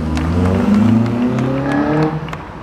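Classic car engine with a sport exhaust and header at a vintage car meet, a loud, close, throaty rumble with shifting low tones for a few seconds before easing off.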